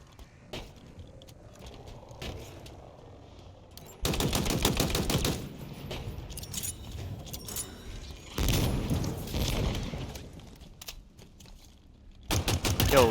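Video game gunfire crackles in bursts, quiet scattered shots giving way to loud rapid automatic volleys that come and go in separate stretches, with no talking.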